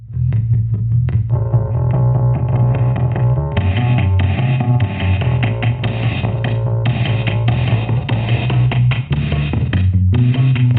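A Discomfort filter pedal, built as a trio of biquad filters with a sample rate reducer, gives a loud, continuous buzzing, distorted tone whose harmonics shift and pulse, with no talking.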